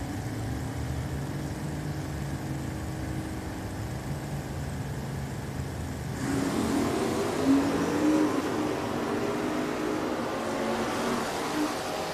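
Gen 1 Camaro and a 1994-body drag car at Richmond Dragway, engines rumbling at the line and then launching into a louder, rising roar that holds as the cars pull away down the strip.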